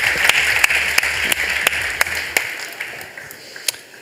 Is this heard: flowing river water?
no